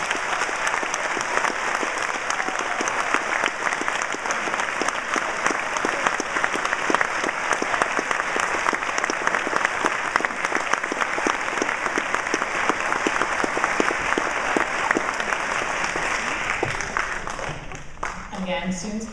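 Sustained applause from an audience at an elementary school fifth grade graduation, a dense steady wash of many hands clapping for a long stretch before tapering off at the end, with some talk underneath.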